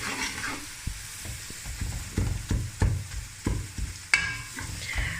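Ginger and garlic fry in a pan for a chicken mongray recipe, giving a soft steady sizzle with several sharp clinks and scrapes from stirring, close and alone.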